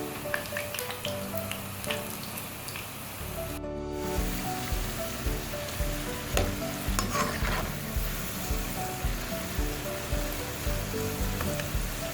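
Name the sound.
french fries frying in oil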